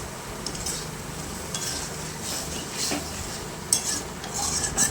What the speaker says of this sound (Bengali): আলুগুলো দিয়ে আবার একটু কষিয়ে নেব।